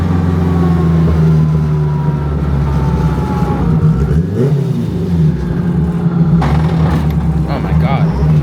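A 1000 HP all-wheel-drive Honda Civic pulls hard on a street, its engine roaring loud and continuous from inside the car with shifting tones as it builds boost, people talking over the noise.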